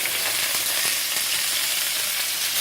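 Seasoned chicken sizzles in a hot pan for chicken and broccoli pasta Alfredo, a close, steady hiss of frying with faint crackles throughout and no voices.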